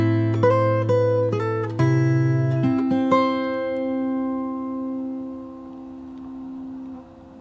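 Fingerstyle acoustic guitar slowly picks the opening bar of a song: a handful of separate plucked notes over a low bass, with the last note left to ring and fade for several seconds, played alone and close.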